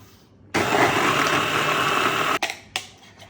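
A multi food processor chops large onions in a brief whirring burst of about two seconds, a loud steady motor whine that stops abruptly, followed by a couple of short pulse bursts.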